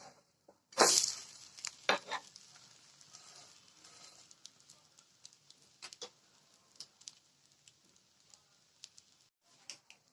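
Wheat rava sponge dosa cooks on a hot pan, giving a sharp sizzle at first, then quiet, scattered crackles and pops that continue faintly.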